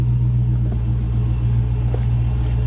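A 2016 Dodge Challenger SRT Hellcat idles with a deep, steady supercharged V8 rumble, loud and close, holding an even burble throughout with no talking.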